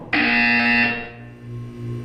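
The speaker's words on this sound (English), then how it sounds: "You will hear a buzzer. When you hear the buzzer, look down at the floor." A loud, harsh electronic buzzer in the video game Portal 2 blares for about a second, then fades into a lingering low hum.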